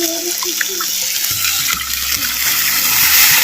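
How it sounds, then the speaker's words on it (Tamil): Tamarind water poured into a pot of betel leaf rasam, a continuous close liquid pour and splash that grows slightly fuller toward the end, with no talking. "அப்படியே புளி சாரை அது சேர்த்து"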